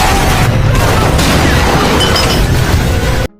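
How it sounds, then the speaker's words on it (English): Dense, chaotic gunfire and booming blasts fill the whole stretch, loud and continuous with crashing impacts, then cutting off abruptly at the end. "Bullets fly in all directions."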